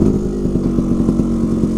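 A Vespa 50 Special scooter's small two-stroke engine drones steadily while being ridden, a close, even, throaty putter with a regular pulsing rhythm and no talking.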